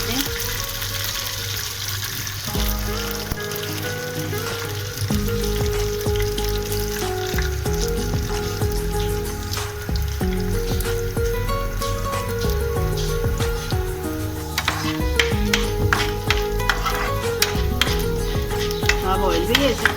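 Dal and whole spices for sambar masala roasting in a pan, a continuous sizzle and stirring with occasional utensil clinks, a running-water sound partway through, and a faint voice underneath.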